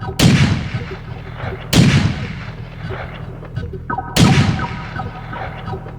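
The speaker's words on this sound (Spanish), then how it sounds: "se escucharon los disparos" Three loud gunshots ring out a couple of seconds apart, each a sharp crack with a long echoing decay, no voices.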